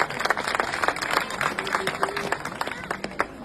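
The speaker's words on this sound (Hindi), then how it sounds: "जोरदार तालियां एक बार इनके लिए।" A crowd at an outdoor rally in a village in Bulandshahr, Uttar Pradesh, claps steadily in a dense, crackling burst of applause that lasts throughout, with faint voices mixed in.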